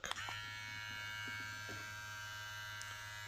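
A VGR V071 electric hair trimmer buzzes steadily up close, a constant motor whine with a brief rattle at the start.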